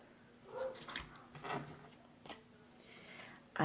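Dogs barking around a residential neighborhood, a few faint, scattered barks at a distance over a quiet room.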